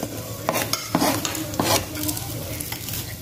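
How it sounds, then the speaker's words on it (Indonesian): Garlic sautéing in a pan for a homemade pizza topping, with scraping stirs and clinks of utensil against the pan over a steady close sizzle, with louder strokes scattered throughout. "Ini kita tumis bawang putih dulu ya guys."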